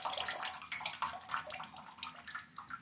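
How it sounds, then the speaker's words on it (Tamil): Ground jamun fruit paste is tipped into stored rainwater, giving a continuous, soft watery splashing and pouring sound throughout. "நம்ம ஏற்கனவே வச்சுருக்க மழை தண்ணியில் போட்டுடலாம்"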